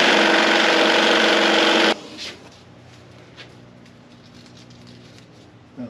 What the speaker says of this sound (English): jigsaw cuts are not so easy to do in a perfectly straight line